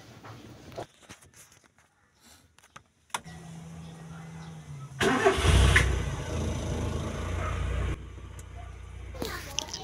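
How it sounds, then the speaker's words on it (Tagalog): A Kia Pride CD5 car engine starts: a brief starter crank turns over, then the engine catches with a loud burst and settles into a steady, close idle. "start natin yung engine"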